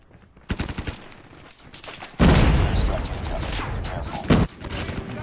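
Automatic gunfire in the mobile video game Call of Duty Mobile, with a submachine gun firing rapid bursts, then a loud sustained burst with a boom near the end.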